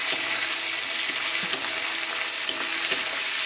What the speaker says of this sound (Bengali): এবার পেঁয়াজটাকে ভালোভাবে ভেজে নেব।